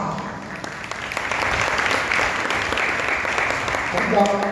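A congregation applauds during a religious sermon, a steady wash of clapping from many hands that holds at an even level for several seconds before a voice begins to speak near the end.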